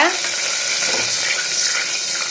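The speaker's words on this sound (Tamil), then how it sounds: "கடுகு நல்லா பொறிஞ்சு வரட்டும்" Mustard seeds and chana dal spluttering in hot oil inside a pressure cooker for a broad bean kulambu, a close, continuous crackling sizzle with no one speaking.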